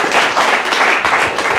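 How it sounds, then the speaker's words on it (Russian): Applause from a lecture audience on a stage after a talk on excess weight, dense and steady clapping from many hands filling the whole moment, fairly loud and continuous with no voices on top. "еще раз вам аплодисменты за прекрасное выступление на сцене"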